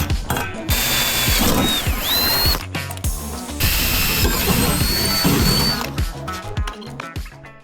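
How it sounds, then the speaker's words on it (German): Holes are drilled into a steel channel for riveting, with a loud power drill grinding and whining in several long bursts and brief pauses between them. "Da bohren wir jetzt die Löcher und vernieten das."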